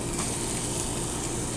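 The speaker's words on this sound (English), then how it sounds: "Oh yeah, you hear that sizzle?" Chopped onions sizzling in a preheated pan, a steady, close crackling hiss of frying that holds even throughout.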